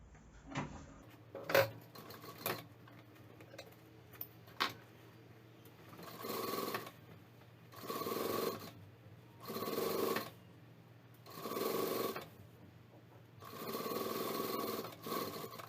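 Domestic sewing machine stitching a fabric pouch seam: a few clicks and taps of handling, then five evenly spaced bursts of buzzing stitching, each roughly a second long, close and clear with no talk.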